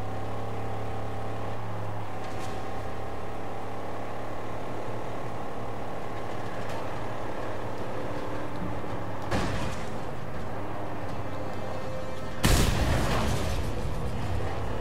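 A steady engine drone runs throughout, broken by a few sharp bursts near the end, one especially loud, like gunfire over vehicle noise in the game Mad Max.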